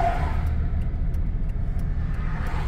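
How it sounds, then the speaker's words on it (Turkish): A Mercedes McLaren SLR sports car accelerates hard, its engine a loud, steady roaring rumble close by that holds strong across the short stretch, with no talk over it. "3 saniyede yüze çıkan bir araba"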